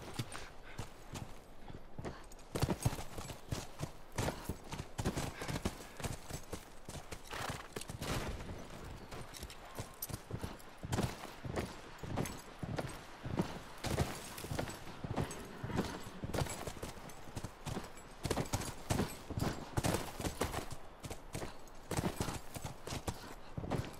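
Horses walking in The Last of Us Remastered, a steady, fairly quiet clip-clop of hooves repeating for the whole stretch with no talking.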